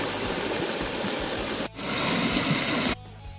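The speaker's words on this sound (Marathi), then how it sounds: "ते पाणी वाहून ह्या साईडला यायला लागले बघा" Krishna river floodwater rushes across a road in a loud, continuous broadband roar up close, with two sharp cuts where the sound briefly drops away.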